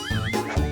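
A cartoon bear voice imitates a donkey's bray: a short, loud, close nasal whinny-like cry lasting under a second, with wavering pitch.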